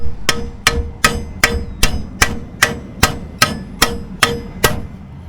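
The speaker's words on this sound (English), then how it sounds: "with the ball part of the peen with the hammer, you just tap" A ball-peen hammer taps metal about a dozen times in an even, steady rhythm, each strike a sharp ringing tick, close and distinct, while repairing a stripped bolt hole.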